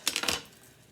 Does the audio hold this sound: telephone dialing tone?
no